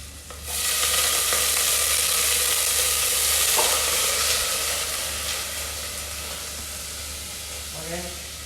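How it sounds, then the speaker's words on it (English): Cherry tomatoes and vegetables sauté in light butter, a bright steady sizzle and hiss that starts abruptly, holds for several seconds, then eases a little, with a short voice near the end. "Just put a little bit of butter, light butter, to saute the cherry tomato"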